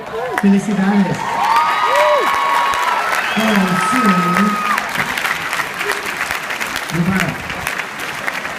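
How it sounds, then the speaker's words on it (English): Graduation audience claps and cheers across the whole stretch, a steady loud wash of applause with whoops and shouts, while a voice speaks over it at times. "let's applaud those for whom English was their second language"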